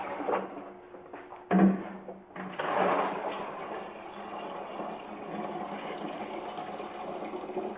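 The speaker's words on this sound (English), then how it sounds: "Pour some water in there" Water pours steadily into a plastic jug, starting after a couple of clunks and continuing as a close, even rushing splash.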